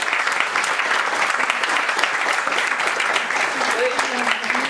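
Sustained applause from a conference audience at a talk on burnout, steady clapping throughout with some crowd murmur and a voice briefly audible underneath.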